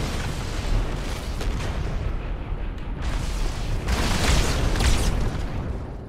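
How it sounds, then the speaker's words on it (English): Grenade explosions in Halo 2 on Legendary difficulty: a dense run of loud, rumbling booms and bursts that overlap for several seconds, swelling near the end, with no talking. "And they're throwing a lot of grenades."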